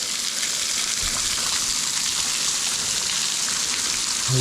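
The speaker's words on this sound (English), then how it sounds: "A waterfall." Steady broadband rush of a waterfall beside a cave on a wet, muddy mountain bike trail, a continuous close hiss with no talking, building slightly louder at the very end.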